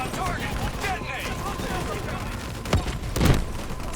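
A spike explosive detonates in the Call of Duty: Black Ops III game: two sharp, loud blasts land late in the clip over a continuous bed of battlefield noise and distant voices.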